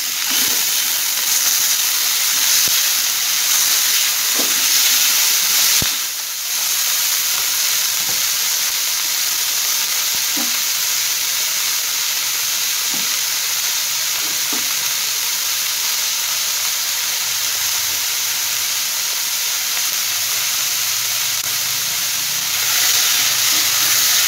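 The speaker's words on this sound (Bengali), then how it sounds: "মরিচ কুচি, পেঁয়াজ কুচি, এটা একটু নেড়ে নেব।" Chopped chilli and onion fry in a pan with a loud, steady broadband sizzle and hiss that lasts throughout, broken by occasional faint clinks of stirring.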